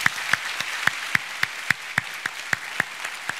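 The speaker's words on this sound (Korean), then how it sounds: "우리 이분들에게 더 뜨겁게 박수해 주시기 바랍니다." A church congregation claps at an Alpha course graduation ceremony, a run of evenly spaced, sharp claps landing together in a steady rhythm over a soft room background.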